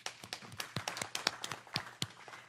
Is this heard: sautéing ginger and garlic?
no